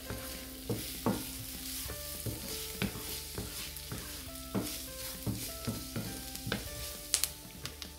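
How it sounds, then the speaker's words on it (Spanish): A stuffed-pepper filling with ground dried garlic sizzles in a frying pan while a utensil stirs it, its scraping clicks and knocks repeating at an uneven pace over a steady close-up frying crackle. "Y lo mezclamos todo."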